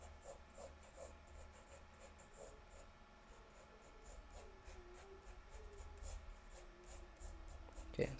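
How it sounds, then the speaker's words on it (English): Soft, continuous graphite rubbing as the side of a pencil sweeps light strokes across paper while sketching a portrait's structure, a faint close scratchy hiss with gentle repeated swishes. "I'm using the side of the pencil to draw, you know, those soft lines"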